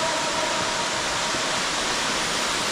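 A waterfall deep inside a river cave pours without a break, a loud, steady roaring hiss that fills the space close by with no pauses.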